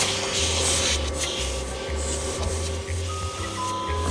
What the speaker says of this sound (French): J'ai cru entendre un bruit d'aspirateur